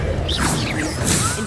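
In Hogwarts Legacy, the Incendio fire spell is cast with a brief, loud whooshing burst and crackling flare, lasting just over a second.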